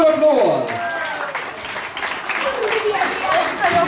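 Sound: applause

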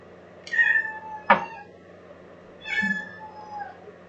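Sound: cat meowing, begging

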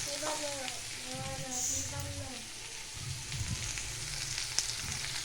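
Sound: spices being fried for egg and chana dal

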